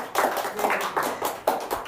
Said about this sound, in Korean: 잠 못 주무시고 발표해주신 세경의 선생님께 다시 한번 박수 부탁드립니다.